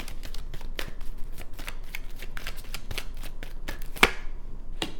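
A tarot deck being shuffled and cards pulled makes a steady run of crisp riffling flicks and snaps, close and fairly soft, with one sharper slap near the end.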